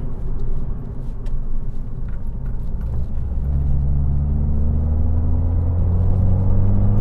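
A Fiat car with a MultiAir engine driving through a corner held in third gear, a steady low interior engine rumble whose pitch rises gradually as the car pulls out, heard close from inside.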